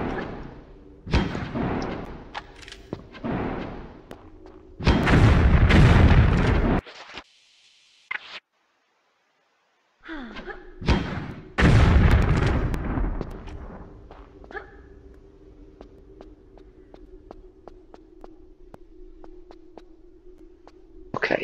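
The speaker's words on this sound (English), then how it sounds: "And then we're gonna use, I think we need a grenade launcher for these." Grenade launcher blasts in Tomb Raider 3's Lost City of Tinnos, a few heavy broadband booms with long roaring tails, separated by brief pauses and a silent gap, followed by a low steady ambient hum.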